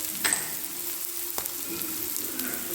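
Onions sizzling in a pan with salt added while cooking drumstick upma, a dense close frying hiss with light crackles and a brief scrape of stirring, no voices.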